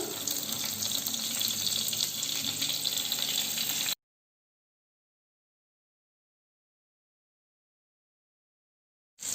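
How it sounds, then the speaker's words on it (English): Brinjal pieces frying in heated oil for a Chettinad-style eggplant gravy, a steady loud hiss and crackle for about four seconds, then abrupt silence until a brief return of sizzling at the very end. "So the oil is heated. So add the brinjal one by one."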